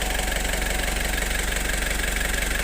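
A repaired Foton Traveller van's engine idles smoothly, a steady, close, rhythmic mid-pitched chug with a constant pulse and no other sounds.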